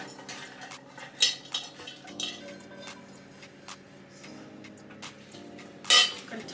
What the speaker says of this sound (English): Stirring the beef.